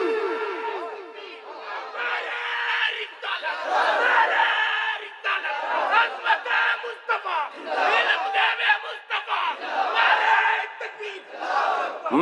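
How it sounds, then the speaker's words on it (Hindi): A large crowd at a religious sermon answers in unison with the takbir chant Allahu Akbar, loud surging shouts repeated in several waves across the stretch, voices rising and falling together. "नारे तकबीर।"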